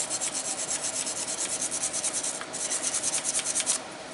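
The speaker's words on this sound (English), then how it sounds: "grab a wire brush as soon as I can find one" A wire brush scrubs crud off a car distributor in rapid, steady back-and-forth strokes. The close, continuous raspy scratching runs the whole time and ends in a brief quicker burst.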